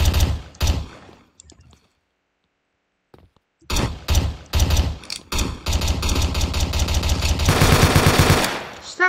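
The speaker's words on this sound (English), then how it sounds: "Stop shooting that dang gun." Loud gunfire from a realistic gun video game: a few single shots, a brief silence, then rapid repeated firing building into a sustained close burst near the end.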